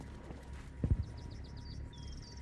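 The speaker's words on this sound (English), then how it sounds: "I hear footsteps." Footsteps approaching in the military game Arma Reforger: a short cluster of dull, heavy thuds near the middle, fairly close, over low ambient rumble with faint bird chirps.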